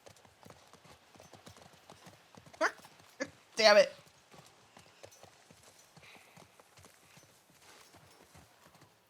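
Horse hooves clip-clop at a steady walking pace in The Last of Us Part I, a soft rhythmic patter running throughout beneath someone talking, with a few louder bursts partway through.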